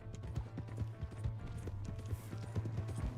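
Horse hooves clip-clop in Red Dead Redemption 2 at a steady, fairly quick trotting rhythm, mixed with a low rumble and faint background voices.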